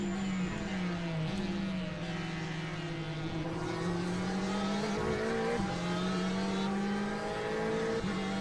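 A Ferrari GTE race car engine in the iRacing sim at Le Mans drones steadily at high revs, with the pitch rising through the gears and dipping briefly at shifts, loud and unbroken throughout with no speech.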